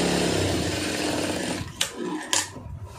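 A sewing machine runs a steady, fast buzz while stitching around the edge of a lining blouse, then stops, followed by a couple of sharp clicks and handling noises.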